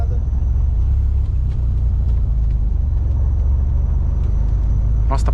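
A Dodge Viper engine idles steadily with a deep, loud, continuous low rumble, close by, with faint clicks and a brief higher squeal near the end.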